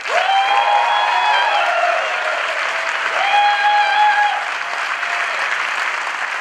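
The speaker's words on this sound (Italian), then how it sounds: "Un fortissimo applauso para Lamberto Bava." A theater audience gives a film director a long, sustained round of loud applause at a horror-film interview event, with steady tonal whistle-like sounds rising over the dense clapping.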